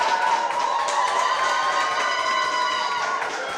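A live audience at a launch recording claps steadily alongside crowd noise and some cheering, with a sustained tone running underneath the dense, continuous applause.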